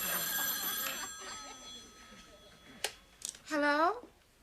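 A telephone rings in a sitcom living room, with short bell-like bursts near the end. They follow a stretch of talk and a few sharp knocks.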